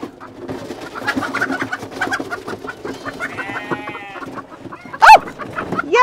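Chickens cluck and coo close by in a rhythmic run of short calls, with one sharp louder squawk near the end.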